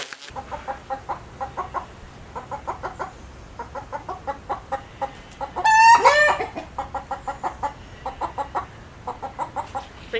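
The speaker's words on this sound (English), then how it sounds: "I think I scared the chickens a bit." Startled backyard chickens cluck in steady rapid bursts near a garden electric fence, with one louder squawking outburst midway, fairly close and with no talking.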